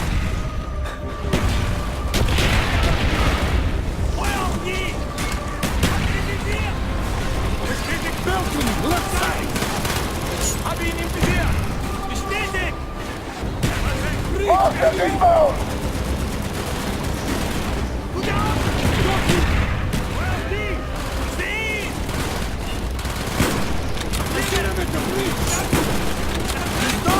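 Dense gunfire from the video game Call of Duty: Black Ops, with sustained automatic bursts and heavy booming explosions throughout, while voices shout over the battle.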